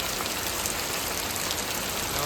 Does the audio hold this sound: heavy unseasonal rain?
yes